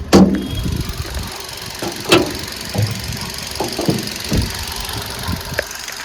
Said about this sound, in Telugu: సో ఇంజన్ అయితే ఆన్లో ఉంది, మీరు ఇంజన్ సౌండ్ వినొచ్చు.